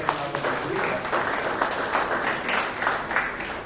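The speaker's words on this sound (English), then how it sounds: "a very big round of applause for Pradeep" Steady applause from a sizable crowd, dense and continuous clapping filling the room throughout, with some voices mixed in.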